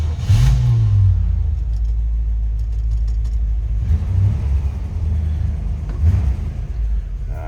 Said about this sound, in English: Take a listen to that 350 underneath the hood.